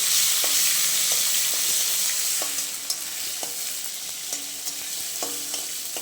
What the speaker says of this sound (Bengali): বড়িটা ভাজা হয়ে গেছে, এবার আমি টমেটো দিয়ে দিচ্ছি।